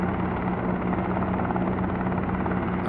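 Simulated helicopter in Helicopter Simulator, a steady, close, even rotor and engine hum droning without change and with no voices.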